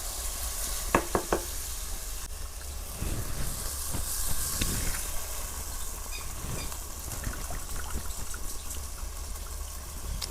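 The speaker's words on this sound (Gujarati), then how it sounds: "હવે આમાં આપણે ચોખા નાખી દેવી." Soaked rice tipped into hot sizzling masala for dal khichdi: a few sharp clinks early on, then a continuous loud frying hiss with soft stirring and pouring rustles, close up and without voices.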